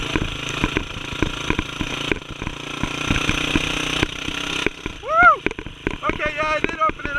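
A Tao Tao fitted with a swapped 212 engine and Juggernaut CVT revs hard and loudly, with rough mechanical clatter, before the revs climb in sweeping pitch as a voice whoops over it.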